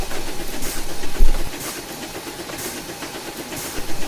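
A steam engine in the Trainz video game puffs slowly out of its shed, with evenly spaced exhaust chuffs and a soft hiss over a low mechanical rumble.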